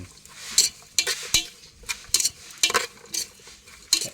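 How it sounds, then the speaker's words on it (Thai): Thai green mango salad is tossed and mixed with a spoon in a bowl, a run of crisp scraping clinks and rustles in irregular bursts, close and fairly loud, with no talking. "ลุกเคล้าให้มันเข้ากัน"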